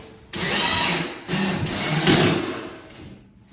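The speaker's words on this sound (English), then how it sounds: "So all I'm going to do really is just put one screw in, and there's blocking behind here." Power drill driving a single screw through a bench piece into wall blocking, with a loud steady motor whir in two close bursts that ease off at the end.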